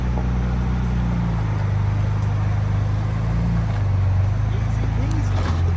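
A 2024 Ford Ranger Raptor climbs an off-road hill at a crawl, its engine a low, steady drone whose pitch rises and falls slightly as it works the slope, close and fairly loud.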